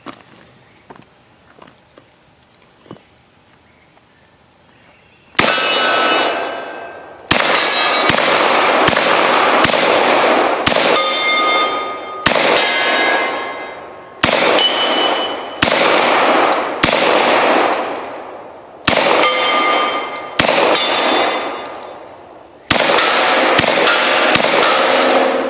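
Loud gunshots from a Glock carbine outdoors, ten or so sharp cracks with ringing decay, after a few seconds of quiet handling; some shots come in quick pairs, others spaced about a second or two apart.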